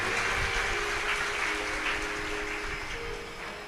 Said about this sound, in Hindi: एक बार इनके लिए जोरदार ताली बजाए।